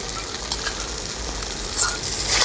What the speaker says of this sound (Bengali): একসাথে খুব ভালো করেই কষিয়ে নেবো